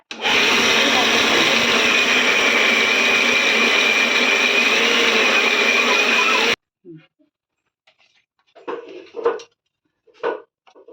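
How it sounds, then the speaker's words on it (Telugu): A mixer grinder loudly whirs dried red chillies and coriander seeds for about six seconds in a steady high whine, then stops abruptly, leaving faint clatter and a brief voice. "ఇప్పుడు దాన్ని ఫస్ట్ ఎండుమిర్చి చేసి ఇలా మిక్సీ పట్టాను ఫ్రెండ్స్"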